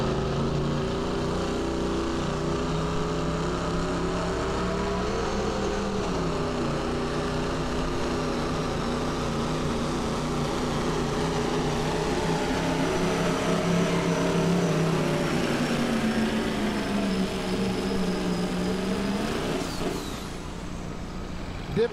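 A pulling truck at a state fair truck pull shootout holds a steady, loud engine rumble with slowly shifting pitch, continuous for the whole stretch and easing off near the end.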